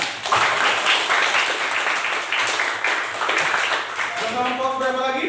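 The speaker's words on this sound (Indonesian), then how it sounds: "Baik, tepuk tangan." Classroom applause from students, steady broadband clapping throughout, with a voice briefly audible near the end.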